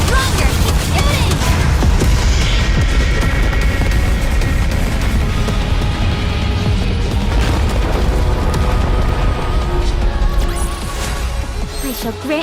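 Dense, continuous gunfire and booming hits in the video game Goddess of Victory: Nikke, loud and sustained throughout with game music and a voice calling out over the battle.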